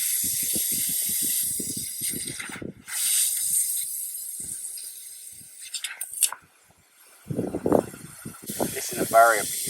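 A portable AUXITO jump starter and air compressor inflates a large van tyre. It gives a steady hiss with rapid mechanical pulsing, broken by short pauses near the middle. Voices talk over it toward the end.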